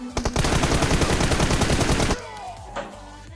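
An UZI firing in the PUBG Mobile video game: a loud, close burst of rapid automatic gunfire lasting about two seconds, then abrupt quiet with faint game sounds afterward.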